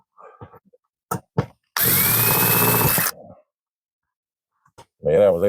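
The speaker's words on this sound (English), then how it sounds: "You're trying to drill into metal." A power drill bores into metal in one sharp whining burst of about a second and a half, between short bits of people talking nearby.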